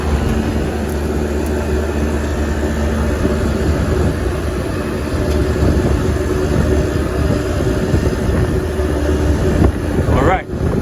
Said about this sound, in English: The compressor is on.